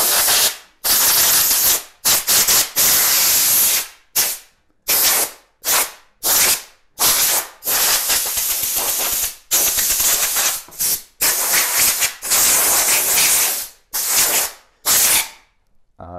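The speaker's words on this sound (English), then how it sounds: "we're going to use the air hose to blow everything off" A high-pressure air hose blasts dirt off a bicycle in about a dozen loud, close hissing bursts of uneven length, separated by short silent gaps.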